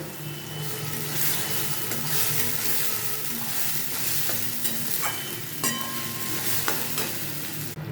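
Bottle gourd leaves with salt and turmeric are stirred in a wok, giving a steady hiss with repeated scraping and shuffling strokes of the spatula close by, no speech.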